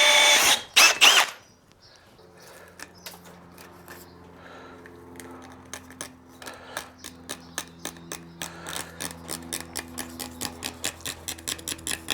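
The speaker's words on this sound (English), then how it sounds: "now we need to drill out this hole to 30mm" A loud burst opens the clip, then a power drill runs steadily, drilling out a hole to 30mm during a Landcruiser 250 Prado suspension install, a low motor hum with a rapid rhythmic clatter that grows as it bites in.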